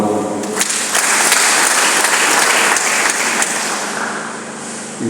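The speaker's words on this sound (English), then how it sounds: "Clap for the Lord." Congregation applauding during a requiem mass for a deceased Christian man: sustained, dense clapping from a large crowd filling the space, steady and loud throughout, with no talk over it.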